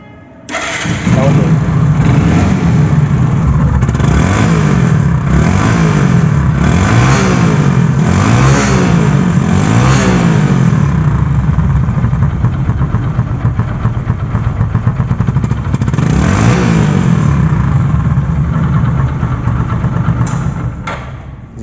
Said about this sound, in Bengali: বাইকটি সাউন্ড কোয়ালিটিও কিন্তু শোরুমের মতোই আছে